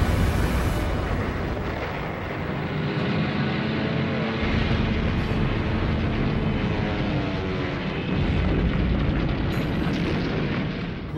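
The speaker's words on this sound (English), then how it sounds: "an enemy bomb penetrates the deck and hits the ship's ammo dump" Long, heavy rumbling blast as a bomb strikes the USS Arizona's ammunition magazine, a sustained roar of explosion with rolling low energy and shifting layers of noise for over ten seconds.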